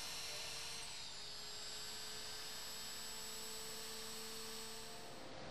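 Steady, continuous high-pitched whine of a grinding tool working on a MAN 48/60 marine diesel engine part during maintenance, with sustained tonal hum and no pauses throughout.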